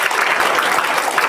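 A seminar crowd claps in a brief, loud burst of steady applause, close and continuous with no voices over it.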